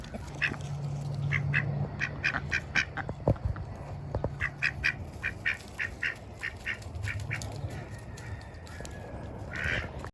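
Broody domestic ducks quack in repeated short bursts, the calls close and moderately loud over a low continuous background hum, with a busier cluster of quacks near the end.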